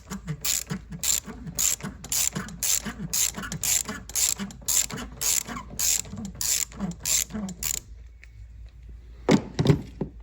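Ratchet wrench clicking in a fast, steady run of sharp pawl ticks while backing out Torx screws on a Volvo P2 ABS pump, close and clear, then a pause and a couple of louder metallic clunks near the end.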